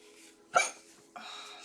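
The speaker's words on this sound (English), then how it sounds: "Fucking hiccups." A single sharp hiccup stands out over quiet room tone, followed by a faint breathy sound, close and indoors.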